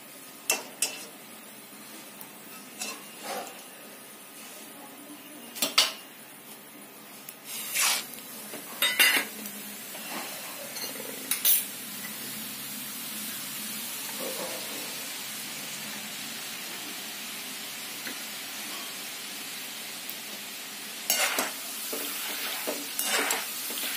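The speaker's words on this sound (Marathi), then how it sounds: "याच्यामध्येच आपण आता भाजकी डाळ आहे ती पण आपण तळून घेणार आहे." Roasted chana dal fries in a pan of hot oil with a steady sizzle, broken by intermittent sharp clinks and scrapes of a utensil against the pan. The sound is close and fairly quiet, with no talking.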